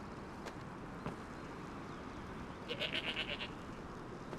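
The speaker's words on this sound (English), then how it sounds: "I've turned his nightmare into a goat." A goat bleats briefly in Skyrim, a short wavering burst of several quick pulses heard faintly over a steady ambient hiss.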